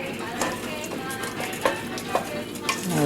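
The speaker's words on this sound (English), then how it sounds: "And go ahead and mix that up till it's blended." A spoon stirs a mixture in a pot for chupe de camarones, making a soft continuous scraping with a few sharper clinks against the metal, fairly quiet and close.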